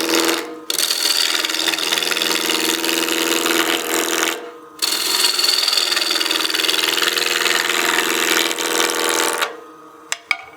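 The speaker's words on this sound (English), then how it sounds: "I've got my 1/2-inch bowl gouge here. We'll just start roughing this out." A wooden blank spins on a lathe as a 1/2-inch bowl gouge roughs it out, giving a loud, steady scraping rasp that runs continuously with two brief pauses before the cut stops near the end.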